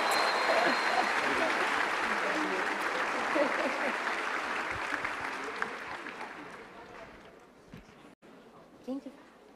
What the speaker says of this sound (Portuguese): Vamos aplaudir essa família maravilhosa.